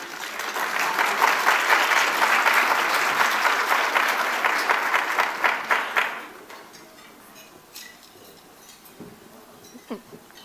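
Audience applause welcoming a speaker onto the stage at a national conference, a dense, steady roomful of clapping that swells and holds for about six seconds before thinning to scattered claps and quiet room noise.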